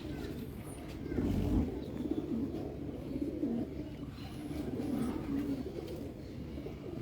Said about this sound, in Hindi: बहुत ही शानदार कबूतर है माशाल्लाह